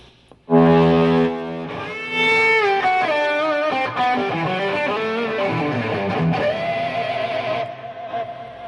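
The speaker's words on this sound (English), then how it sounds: "And also a couple of cool lead sounds" A distorted electric guitar plays a sustained lead line with bends and held notes, loud and alone, fading at the end.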